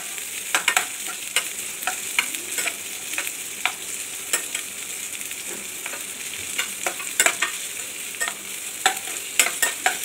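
Onions sauté in a pan for kadai paneer, a steady close sizzle broken by frequent sharp scrapes and taps of a spatula stirring against the pan.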